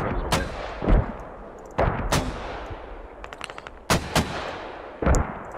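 A mortar barrage in the military shooter Squad, heavy rounds launching against a compound; loud, sharp booms land irregularly about six times, each trailing off into a rumbling decay, with fainter distant thuds in between.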